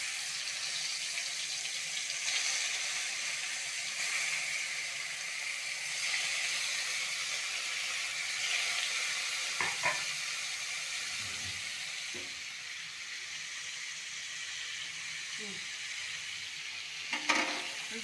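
Katla fish fries in hot oil in a wok with a continuous soft hiss and sizzle, with a few light clinks of a utensil against the pan.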